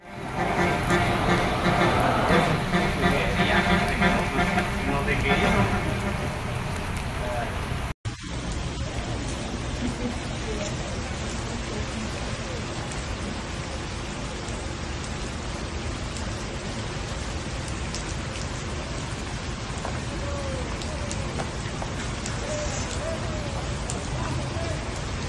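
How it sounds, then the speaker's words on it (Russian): Heavy rain pouring over a coastal area during a prolonged storm, a steady dense hiss with news narration speaking over it, an abrupt cut partway through. "Вся прибрежная территория штата более 24 часов находится под сильным дождем."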